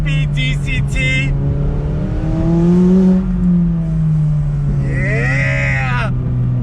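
McLaren 570S Spider with the top down, accelerating hard through its 7-speed dual-clutch gearbox, a loud, steady engine drone rising in pitch, dipping briefly, then climbing again near the end.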